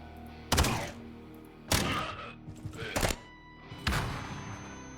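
Several sharp flashbang grenade blasts go off in the tactical video game Quasimorph, four heavy thumps spaced about a second apart, each with a short ringing tail.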